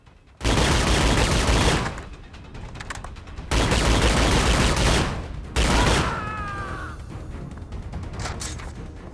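Heavy bursts of gunfire ring out as guards on a catwalk are shot in an Xbox video game, three long loud volleys separated by short pauses, with ricochet-like whines trailing after the last.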